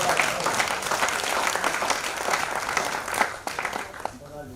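Audience applause at a Hindi poetry recital, a dense sustained wash of clapping from a crowd that fades out, with a voice speaking under the tail end.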